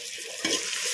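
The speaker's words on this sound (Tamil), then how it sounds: "இங்கே சாம்பாருக்கு தக்காளி வதங்கிட்டுருக்கு." Tomatoes sauté in a hot pan for sambar, a close, steady sizzle with a brief stir scrape midway, loud and alone.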